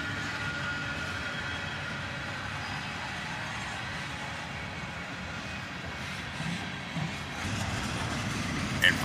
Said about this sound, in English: the tail end of this train passes us by